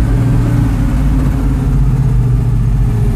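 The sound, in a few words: Chevelle wagon V8 engine running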